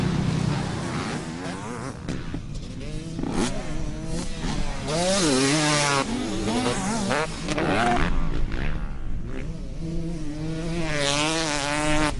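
A KTM two-stroke dirt bike engine revving and buzzing, its pitch rising and falling in repeated sweeps as the rider works the throttle, loud and continuous throughout with no talk.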